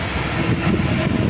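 A Jeep Grand Cherokee engine idles at a steady low rumble with the radiator fan whirring, heard close and continuous.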